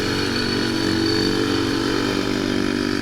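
A Kawasaki Outlaw 90cc ATV engine runs steadily nearby, a buzzing, rough small-engine drone holding an even pitch throughout with no talk.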